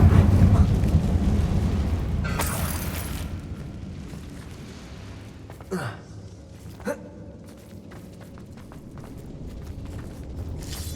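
A fiery Confringo spell goes off inside a closed mine in the Hogwarts Legacy video game: a sharp burst of blast noise, then softer thuds and crackles against a low game ambience.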